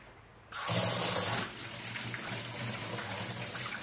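Water runs from a tap to rinse a succulent plant, a bright gushing hiss that starts abruptly and then settles into a steady, close stream with no talking.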